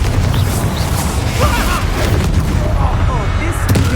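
Confringo blasting curses and other spell impacts burst during a Hogwarts Legacy fight, loud booms and crackling pops overlapping continuously amid game voices.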